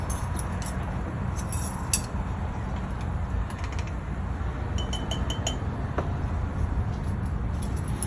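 Acid dye is stirred into a dye pot with light, irregular clinks and taps, heard close over a steady background hiss.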